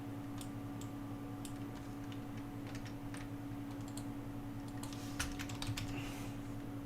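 Light typing on a computer keyboard, scattered quiet key clicks in an irregular rhythm with a brief quicker burst near the end, over a steady low electrical hum.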